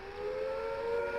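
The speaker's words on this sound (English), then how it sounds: "the sirens will sound a rising and falling note like this" A civil defence air raid siren sounding a fallout warning wails steadily at close range, its tone gently rising and falling with no other sounds.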